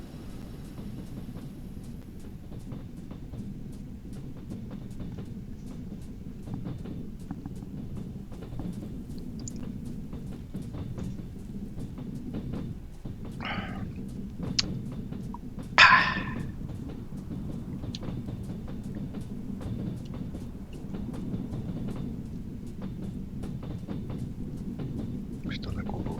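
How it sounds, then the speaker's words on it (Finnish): A train in the Trans-Siberian Railway Simulator game gives off a steady, low rumbling clatter that runs throughout, with a couple of brief sharper knocks near the middle. "Mistä ne kuuluu vieläkin kolinaa?"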